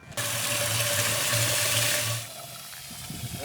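A garden hose runs water into a bucket for cleaning vinyl siding, a loud steady gushing pour with a low hum that cuts off after about two seconds, leaving quieter splashing and dripping.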